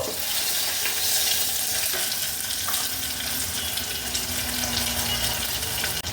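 Steady sizzling of food frying in a pan, with a bright crackling hiss throughout and a few faint clinks; no one speaks.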